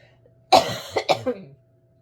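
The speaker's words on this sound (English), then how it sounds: "sorry for the coughs" A burst of coughing up close, a rough first cough followed by two or three quick shorter coughs, then silence.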